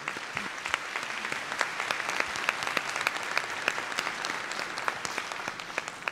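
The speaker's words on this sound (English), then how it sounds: "please give the last round of applause for all the" Audience applause for the panelists closing a high-level leaders session in a conference plenary hall, steady dense clapping from a large crowd heard at moderate distance, sustained evenly for several seconds with no talk.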